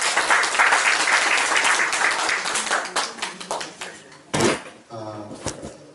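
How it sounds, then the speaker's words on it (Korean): Audience at a concert clapping to welcome a panflute player, a loud burst of applause that thins out and fades, followed by scattered knocks and a voice starting to talk. "큰 박수 부탁드립니다."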